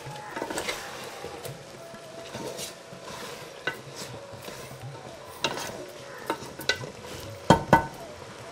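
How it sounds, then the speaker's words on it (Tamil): Chicken pieces fry in oil in a pan with a soft, steady sizzle, broken by scattered clinks and stirring scrapes, fairly quiet throughout. "இதை வந்து பொறுமையாக நம்ம இதுலேயே இந்த எண்ணெயிலேயே ஃப்ரை பண்ணால் அப்படியே நல்லா வெந்துடும்"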